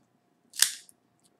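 A cigar cutter snips the triple cap off an EP Carrillo 5th Anniversary Toro in one quick, crisp, close cut, with a faint tick just after and near silence around it.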